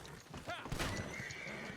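A horse whinnies loudly in Red Dead Redemption, a rising shrill neigh over hoof clatter and busy outdoor game ambience, followed by a steady high tone.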